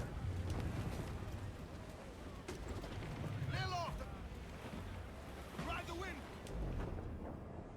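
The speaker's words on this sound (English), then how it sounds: "It's a bit windy." Wind blows steadily over the open sea in Assassin's Creed IV: Black Flag, a constant broadband rush mixed with waves and boat noises, with a voice speaking over it at times.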